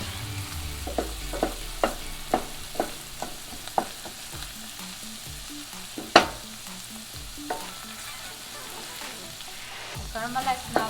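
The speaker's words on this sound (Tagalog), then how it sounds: "Caramelize na both onions and garlic." Minced garlic and onions caramelizing in a pan for a mushroom gravy, a steady sizzle broken by repeated sharp clicks and scrapes of stirring, close and fairly quiet, with no voices.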